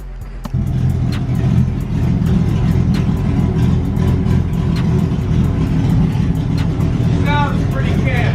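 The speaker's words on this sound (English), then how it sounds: "Sounds like a big old V8." A big V8 engine in a cheap Mustang-based drift kart starts up and settles into a loud, rough, lumpy idle with irregular misfiring pops, heard close in a garage with brief voices near the end.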